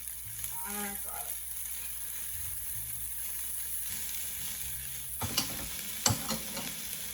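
Garlic sizzling in a hot pan with freeze-dried ginger while cooking cauliflower shrimp fried rice, a steady quiet fry broken by a few stirring scrapes near the end.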